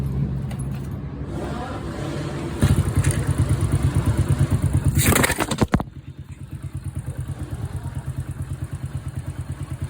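A Honda Wave motorcycle engine runs after a valve adjustment with a steady, rapid idle putter. It rises louder midway with some clattering handling noise, then settles back to an even idle.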